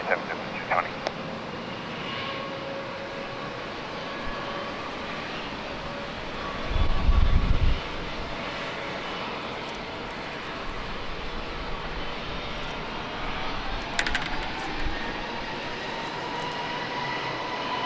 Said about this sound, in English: American 1621 and Airbus 321 from Philly